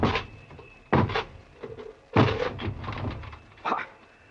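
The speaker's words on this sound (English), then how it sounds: "Corporal, break this door down." A door is broken down as a radio drama sound effect, heard as a series of heavy wooden thuds, crashes and splintering impacts, loud and close, in irregular bursts over a few seconds.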